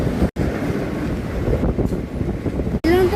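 Thane local train running past on the opposite track, a loud rushing rumble with heavy wind buffeting, cut by brief dropouts and ending in a high squealing tone.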